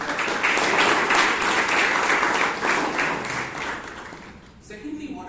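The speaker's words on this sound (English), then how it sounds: "So please give her a big round of applause." Audience applause at a Bangalore Toastmasters club meeting, a dense, steady clapping that fills most of the clip before thinning out, with a voice beginning to speak at the very end.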